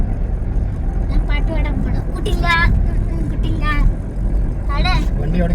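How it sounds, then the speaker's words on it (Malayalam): Car driven along the Aruvithura road, with a steady low rumble of engine and tyres running continuously beneath a voice talking over it. "ചേട്ടൻ വണ്ടി ഓടിച്ചോണ്ടിരിക്കുകയാണ്"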